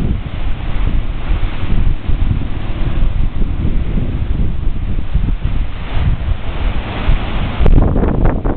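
Ocean waves surging through a punch bowl rock formation, a loud continuous roar of churning surf mixed with heavy wind buffeting on the microphone, with no voices.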